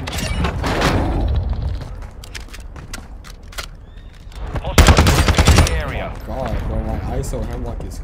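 Rapid bursts of ISO Hemlock rifle fire in Warzone 2, loud and close, with a dense volley near the middle, mixed with game voice callouts and a player talking between shots.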